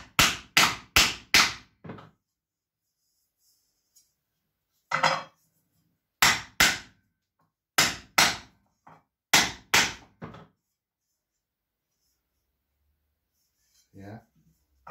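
Sharp hammer blows ring on a steel Gjermundbu viking helmet, struck in quick clusters of three to five strikes separated by silent pauses.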